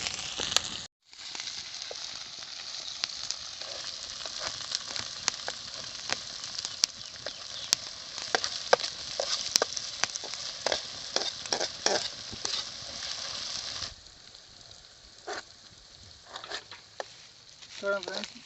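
Tomatoes and green chillies fry in a pan over a forest fire, giving a dense, continuous sizzle with crackles and stirring scrapes that runs steadily, then softens near the end, with a voice talking over it.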